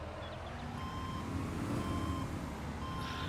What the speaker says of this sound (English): We still have 9 mph reverse speed, which is accurate to the real world.